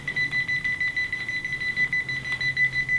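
A metal detector pin-pointer, held over a buried target in dirt, gives a continuous high-pitched tone that pulses rapidly, fairly faint but clear over quiet background, with no talking.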